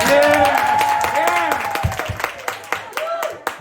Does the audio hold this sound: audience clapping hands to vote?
yes